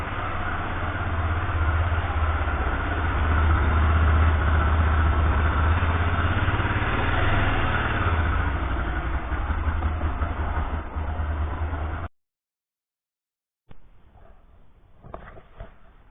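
A Yamaha XTZ Ténéré motorcycle engine idles while warming up, a steady low rumbling drone for about twelve seconds, then cutting out abruptly before faint background noise returns.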